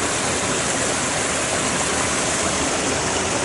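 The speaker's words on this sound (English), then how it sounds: "Even got myself a little waterfall." A small waterfall in Yellowstone pours in a dense, even roar, loud and close, unbroken from start to finish with no speech.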